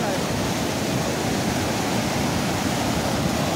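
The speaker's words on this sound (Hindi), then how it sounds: "बहुत तेज़ गति से यहाँ पर पानी बह रहा है" Fast-flowing water of the Kalisindh River rushes past the Harishchandra Sagar Dam wall in a loud, steady, unbroken roar that fills the whole clip.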